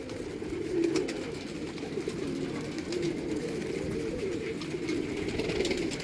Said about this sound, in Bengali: পায়রা যখন নিচে আছে ও ঠিক নেমে পড়বে